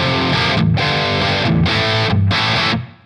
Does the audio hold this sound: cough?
no